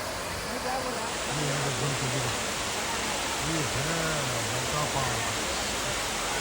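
Steady broadband rush of water at Dada Parts waterfall in Chikmagalur, a continuous roar filling the scene while someone talks over it.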